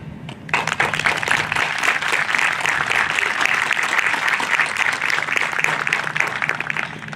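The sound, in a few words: audience applause at a high school graduation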